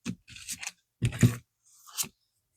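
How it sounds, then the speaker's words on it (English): A deck of tarot cards being shuffled by hand, with three quick papery riffle bursts separated by brief pauses, close and fairly loud. "Let's do one more shuffle."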